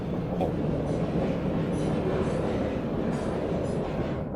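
Steady rolling rumble of a train passing through deep snow in the dot-graphic truck delivery game Easy Delivery Co., a continuous dense low roar with faint rhythmic clatter, loud and unbroken throughout.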